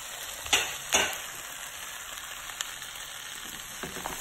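An egg frying in a hot pan beside fried rice with chicken and vegetables, a steady bright sizzle throughout with two louder crackling bursts early on and a few small pops near the end, close and alone.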